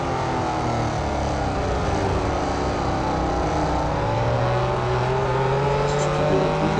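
Ford GT race car engines in Real Racing 3 at Le Mans, a steady loud engine drone with rising and falling tones as cars pass one another, continuous and close with no talk.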